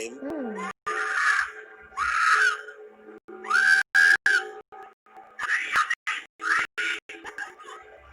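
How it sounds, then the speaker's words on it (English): A woman's raw, strained voice cries out in repeated high-pitched bursts, echoing outdoors with short pauses between the yells. "a doorbell cam in a residential neighborhood catches what sounds like a woman's final screams for help"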